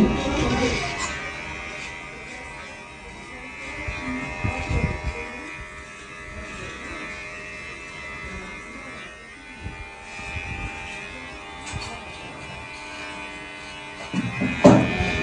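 An electric machine trimmer cutting a beard against the grain, a close buzzing hum that rises and falls as it moves over the hair, with brief quiet gaps and soft handling noises.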